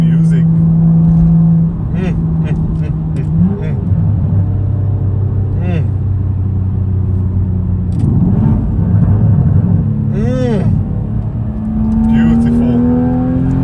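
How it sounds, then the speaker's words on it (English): A BMW M135i hot hatch, 2022 model, sings from its exhaust as the engine revs, with loud rising and falling engine tones sweeping up and down over a steady rumble, heard up close with a person talking over it. "And the sound, the way this motor sings out of the back."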